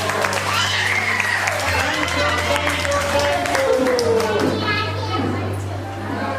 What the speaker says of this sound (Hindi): क्लैपिंग बच्चों।